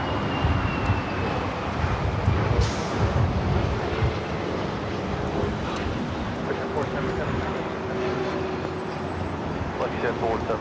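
An Airbus A321neo airliner at LAX airport rumbles at a distance, its engine roar broad and steady with faint whistling tones, while people chat nearby over it.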